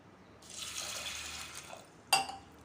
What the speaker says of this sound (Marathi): चना डाळ जी आहे ना स्वच्छ पाण्याने दोन ते तीन वेळा आपण धुवून घेऊया